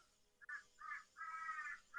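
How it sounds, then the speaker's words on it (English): A crow caws several times in harsh, rasping bursts as it flies past, loud and close, with no talking. "That was a crow that just went by."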